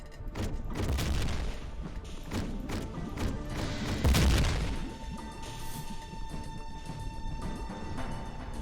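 Deep booming explosions from the game Hedon, a heavy blast near the start and a louder one midway, each rumbling before fading into a steady ambient hum.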